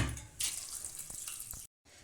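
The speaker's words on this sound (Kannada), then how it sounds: "ಇವಾಗ ಕುಕ್ಕರಿಗೆ ಹಾಕಿಬಿಟ್ಟು ಸ್ವಲ್ಪ ನೀರು ಹಾಕಿ" Water poured into a pressure cooker holding soaked chickpeas, a short quiet splashing pour lasting about a second and a half before it stops.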